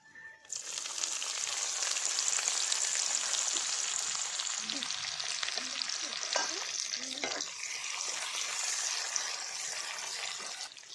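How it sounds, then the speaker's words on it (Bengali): Sliced onion sizzles in hot fish-frying oil tempered with bay leaf, whole peppercorns, cardamom and cloves, a steady close hiss throughout with faint stirring scrapes. "সেই মাছ ভাজার তেলেই আমি ফোড়ন দিয়ে দিলাম তেজপাতা আর গোটা গোলমরিচ এলাচ আর লবঙ্গ আর এরপরেই আমি পেঁয়াজ দিয়ে দিচ্ছি"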